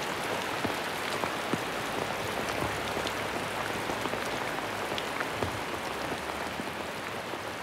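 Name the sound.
rain falling in a rainforest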